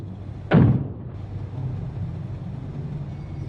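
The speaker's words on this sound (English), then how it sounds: "If you don't open, we'll break down the door." A single heavy thud as a door is forced in a video game scene, a loud close impact with a short decay, followed by a quiet rumbling background and a faint knock at the end.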